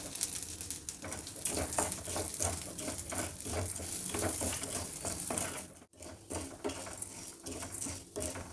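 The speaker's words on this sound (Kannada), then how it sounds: "ಕಡಲೆಬೇಳೆ ಮತ್ತು ಉದ್ದಿನಬೇಳೆ ಎರಡೂ ಚೆನ್ನಾಗಿ ಫ್ರೈ ಆಗಿದೆ" Chana dal and urad dal fry in a pan, with quiet sizzling under repeated scraping and clinking as a utensil stirs the lentils.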